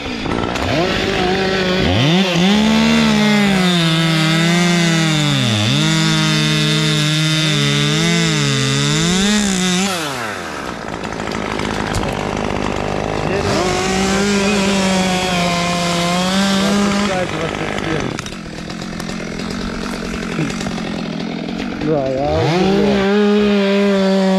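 A loud Husqvarna T540XP Mark III chainsaw buzzes close by and bogs down as it cuts into a wooden log, with brief pauses where the pitch rises and falls between cuts.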